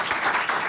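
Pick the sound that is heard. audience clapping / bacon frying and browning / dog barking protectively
audience clapping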